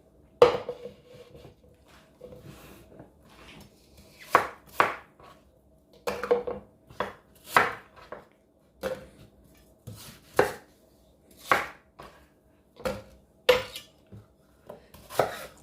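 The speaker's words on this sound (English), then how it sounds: "So you just chop these up." A knife chops carrots on a board in short bursts of sharp cuts, close by, with brief pauses between.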